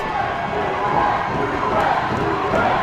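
Wrestling arena crowd at a tag-team match cheering and calling for Durag, a loud continuous wash of voices at steady intensity, with a commentator talking over it.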